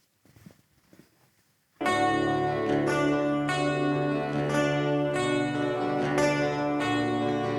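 A recording plays from vinyl, entering after a faint, quiet lead-in with full, steady band sound: guitars, bass, drums and vocals at a loud, even level.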